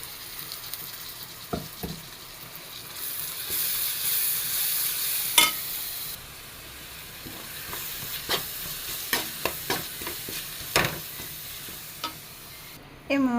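Crushed spices fry with browned onions in a pan, giving a continuous hissing sizzle that swells for a while, with scattered scrapes and taps of a spatula stirring the mixture.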